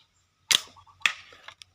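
A slingshot with double-strength flat rubber bands fires an 8 mm ball: two sharp, snappy cracks about half a second apart, each with a short ringing tail, then a lighter click at the end, heard close and alone.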